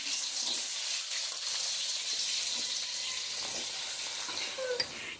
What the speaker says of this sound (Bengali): ওই পেঁয়াজটা প্রায় ভাজা ভাজা হয়ে গেছে